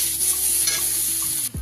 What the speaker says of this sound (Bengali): বেগুনটাকে একটু ভালো করে ভেজে নেব তেলের মধ্যে